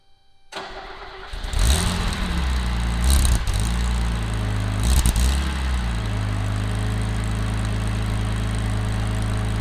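A Mercedes six-cylinder 2.8 litre convertible engine cranks and catches, then settles into a steady, close, continuous idle with a slight rise in revs early on.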